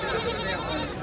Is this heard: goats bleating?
yes